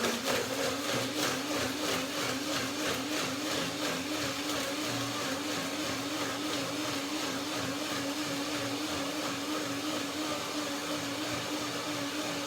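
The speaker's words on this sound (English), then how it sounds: "Blender dance." A kitchen blender whirs steadily for several seconds while blending a banana cream with cherries and walnuts, a loud continuous motor drone with a slight pulsing wobble and no voices.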